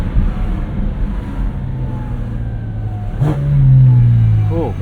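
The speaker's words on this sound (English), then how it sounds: "Crazy turbo noise from that bus." A Porsche 718 Cayman GT4 RS engine runs with a low steady drone, then rises in a loud rev for a second or two before falling away, heard close from inside the car.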